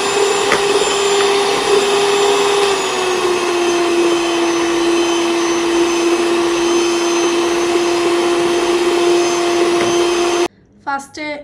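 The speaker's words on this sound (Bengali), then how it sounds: "এখন হুইপ করাটা আমি স্টার্ট করছি।" Electric whipping machine beating a homemade ice cream mixture in its bowl gives a loud, steady motor whine that drops slightly in pitch partway, running continuously for about ten seconds before cutting off into brief talk.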